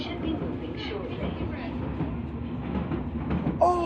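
A London Underground train passes with a steady low rumble and faint rail clatter at moderate distance, while a voice talks over it and a brief higher squeal comes near the end.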